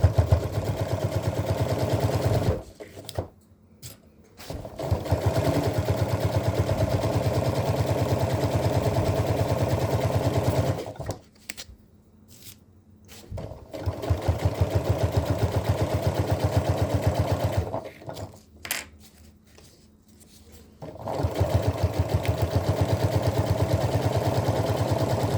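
A sewing machine backstitches a stress point on a simple sports backpack, with rapid mechanical stitching runs of several seconds separated by short pauses as direction changes, steady and close.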